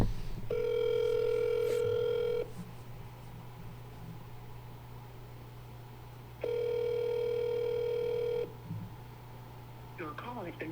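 A telephone rings back while a call is placed to a real estate phone number: two long, steady electronic tones about four seconds apart, with a low constant hum underneath and a brief faint sound at the end.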